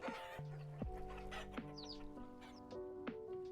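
A hen in the video game Vintage Story clucks in a run of short, close calls, clear and alone without talk.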